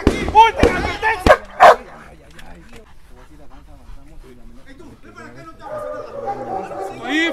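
Police K9 dog from a civil force canine unit in training, a few sharp barks and yelps up front amid loud shouted commands, then quieter whimpering and voices in the background.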